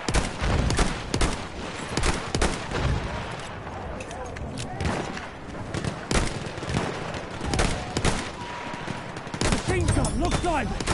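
Machine gun fire in the video game Battlefield 1, loud rattling bursts and scattered shots of a multiplayer battle running through the whole stretch, with a player speaking over the gunfire.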